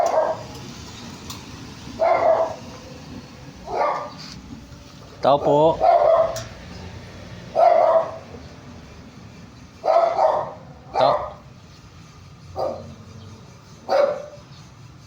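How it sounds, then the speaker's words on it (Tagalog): A dog outside a house barks repeatedly at visitors, sharp yips in bursts every second or two, fairly close, while a person calls out between barks. "May aso."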